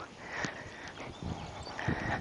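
Hooves of a horse clip-clopping at a walk during a riding session, a few uneven steps close by over low outdoor noise, no talk.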